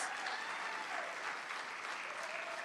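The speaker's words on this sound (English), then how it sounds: "let's have a big round of applause for the praise team" A church congregation at a Sunday service gives the praise team a round of applause: steady, fairly distant clapping from a crowd, even in level throughout.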